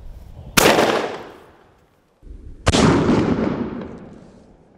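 Two loud shotgun shots with Gamebore Blue Diamond 7.5 fibre cartridges during load testing, about two seconds apart, each a sharp close crack trailing into a long outdoor decay.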